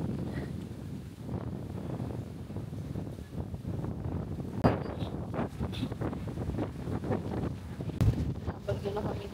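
Gusty wind buffets the microphone in a steady low roar, with a few louder thumps and faint background voices, on Boracay during the southwest monsoon (habagat) season.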